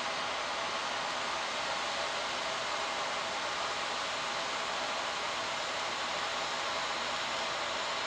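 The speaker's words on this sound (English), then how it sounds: "it's got more of a hiss at the torch." An AHP AlphaTIG 200X 200-amp TIG welding torch giving off a steady, even hiss at close range, continuous and unbroken without any speech.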